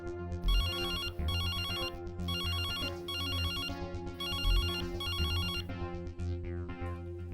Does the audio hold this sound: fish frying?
no